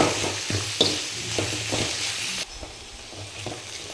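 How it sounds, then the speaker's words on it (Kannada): Onions fry in a pan with turmeric as a spoon stirs them, a steady close sizzle broken by rhythmic scraping strokes that stop partway, leaving a quieter hiss. "ಅಷ್ಟರಲ್ಲಿ ಈರುಳ್ಳಿನೂ ಫ್ರೈ ಆಗ್ತಾಯಿದೆ"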